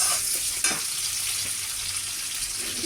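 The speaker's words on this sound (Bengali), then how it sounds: "ভেজে নিচ্ছি শুকনো লঙ্কার সাথে।" Dried red chillies and spices fry in a pan alongside jackfruit seeds, potato and black cumin, giving a steady bright sizzle that runs close and continuous with a brief stir partway through.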